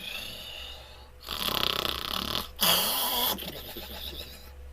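A woman imitates an old grandmother's snoring with her voice: two long, loud rasping snore breaths with a snorting rattle, separated by a short pause, close and alone without talk.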